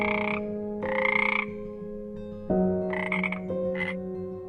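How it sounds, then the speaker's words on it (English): A frog croaks in loud, rasping bursts, four or five calls spaced irregularly over a sustained tonal drone, with no voices present. "Frog."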